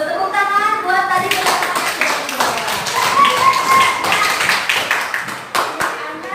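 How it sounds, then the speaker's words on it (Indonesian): Classroom students clap together, a burst of brisk, loud hand claps that rises and then tapers off, with children's and a teacher's voices mixed in. "Tepuk tangan buat tadi."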